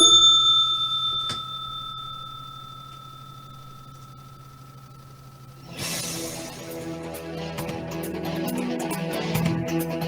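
A single bell strikes near the start and its bright tone rings on steadily, like a market opening bell, before music enters and fills out the second half.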